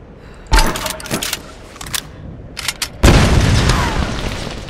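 Grenade blasts in the Tomb Raider video game on PC: a sharp boom, a few smaller thuds and crackles, then a second heavy explosion whose rumble trails off slowly, loud and close.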